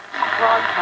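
Shortwave WWV time station received on 20 MHz through a vintage Hallicrafters S-38 receiver, a brief noisy, hissy signal with a faint tone and voice in the static.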